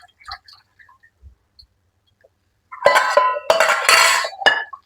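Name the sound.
milk being poured into curd and mixed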